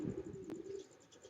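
A Ferozpuri Teddy pigeon coos softly and steadily at close range, a low continuous murmur with one brief sharp click partway through, and no talking.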